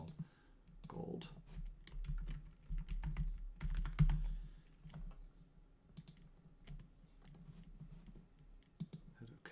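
Someone types a file name on a computer keyboard, with bursts of close, crisp key clicks and pauses in between in a quiet room with no speech.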